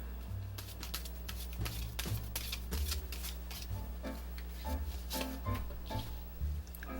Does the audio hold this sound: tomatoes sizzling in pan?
no